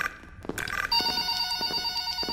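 A telephone rings inside the Roblox horror game FNAF Forgotten Memories, a bright electronic bell tone that repeats in short bursts, clear but moderately quiet, with no talk over it.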